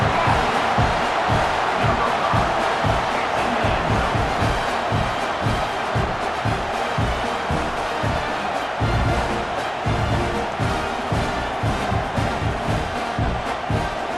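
A stadium crowd at a Texas A&M football game roars after a touchdown, a loud, sustained wall of cheering and whooping with rhythmic chanting pulses running through it.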